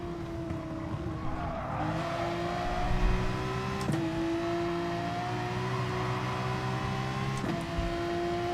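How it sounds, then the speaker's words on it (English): Race car engine in a racing video game holds a steady high drone that climbs through gears, with brief gearshift breaks and a low thump midway, loud and continuous without talk. "Up high, turn hard, accelerate."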